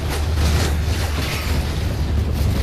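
A loud, rumbling blast echoes through a Call of Duty: Modern Warfare 3 campaign mission, its booming roar sustained and dense for a couple of seconds without speech.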